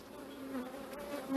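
Honey bees crowd a hive frame, their buzzing loud and close, a thick steady drone with individual wingbeats whining higher as some lift off near the end.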